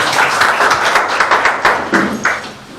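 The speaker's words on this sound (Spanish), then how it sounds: "Dale palmas al Señor." A church congregation clapping their hands in praise during a Spanish-language service, loud and close, with a dense rhythmic patter of many hands that swells in pulses and then thins out toward the end.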